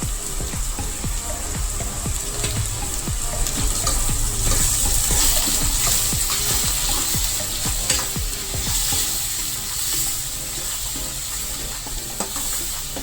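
Onions frying with turmeric, salt and spices for a Gujarati kabuli chana curry, a steady close sizzle under repeated scraping stirs of a spoon in the pan, continuous throughout with no talk.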